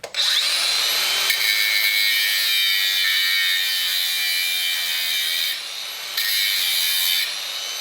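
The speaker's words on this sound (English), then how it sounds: "Let's get the angle grinder. It's just a matter of finding a good place to cut." A wheel loader's muffler is cut with an angle grinder: a loud, continuous high-pitched grinding whine held for several seconds, dipping briefly as the disc eases off the steel, then resuming.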